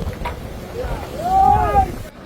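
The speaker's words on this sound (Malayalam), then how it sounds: "ഇത് നോക്കിയ വെള്ളം തെറിക്കീണ് മുന്നിൽ കൂടി, അത്രയും റോളിംഗ് ആണ് ബോട്ട് കിടന്നത്." A Kollam fishing boat at sea rolling heavily, with water splashing over the bow amid wind rumble and a rising whoosh of spray near the microphone, with no talking.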